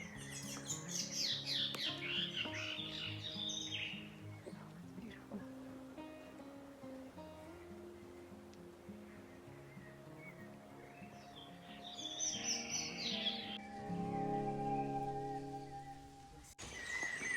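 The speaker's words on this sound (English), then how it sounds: "you were surrounded by birds singing and monkeys playing in the trees" Tropical birds chirp and call across forested Île Royale in the Salvation Islands, layered over steady musical tones and background sound, with brighter bursts of chirping near the start and again toward the end.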